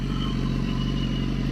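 A BMW HP4 motorcycle's exhaust idling, a steady, loud, close engine rumble with an even low throb and no change in pace.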